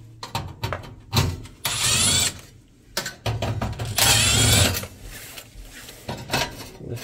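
Screws come out of a Rheem PSC blower motor, with a run of close metallic clicks, taps and scraping broken by two longer bursts of rough whirring, probably a driver spinning, all without talk.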